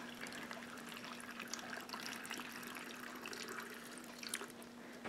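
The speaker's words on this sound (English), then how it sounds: "Once my brine is made, I'm just going to pour it over my watermelon rind" Brine pours quietly and steadily over watermelon rind packed in a jar, a faint trickling flow that continues without talk.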